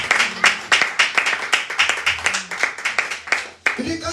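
A church congregation applauding to acclaim Jesus, with a dense run of sharp, rhythmic hand claps at a steady beat and a voice calling out briefly at moments.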